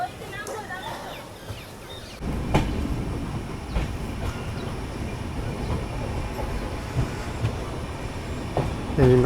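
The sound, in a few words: Kanchankanya Express train leaving the station and running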